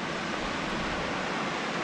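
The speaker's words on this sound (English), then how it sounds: "there is a little waterfall as promised" A small waterfall on Rock Creek in Kankakee River State Park, Illinois, gives a steady, even rush of falling water, close and unbroken throughout, with no voices.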